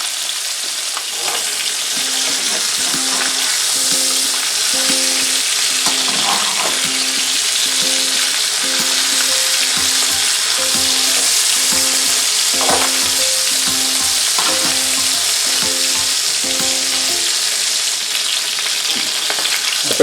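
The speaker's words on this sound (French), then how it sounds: "on laisse cuire ça pendant 5 minutes, de façon à ce que la peau vienne bien dorée" Chicken pieces frying skin-side down in a pan for a fricassée, a loud steady sizzle running throughout with a regular tapping pattern mixed in, no voices.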